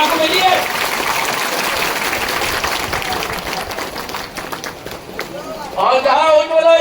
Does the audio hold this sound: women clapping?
yes